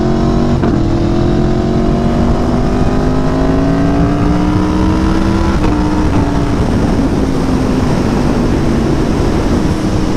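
A 2017 Aprilia Tuono V4 1100 RR motorcycle engine revving loudly and close, with a sustained drone that climbs and dips through throttle blips.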